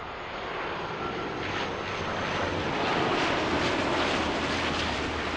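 A KLM airliner departs Toronto Pearson airport, its engines producing a steady, broad roar that swells slightly at mid-point and holds without pause, with no voices present.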